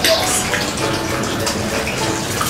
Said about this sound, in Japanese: じゃあ今から露天風呂に入りたいと思います。